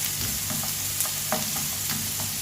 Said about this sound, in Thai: ผัดให้เปลี่ยนสีสักนิดหนึ่ง นะครับ ให้มันสุกกันแหละนะครับ